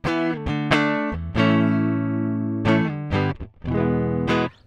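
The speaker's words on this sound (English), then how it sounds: "Let's first start off with our clean tone." An electric guitar played through an HX Stomp on a dry clean patch, sounding bright plucked notes and chords with sharp attacks and short sustains, played alone.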